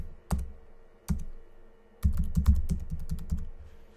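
A password goes in on a computer keyboard: two isolated key taps, then a quick run of close, crisp keystrokes in an otherwise quiet room, with no one speaking.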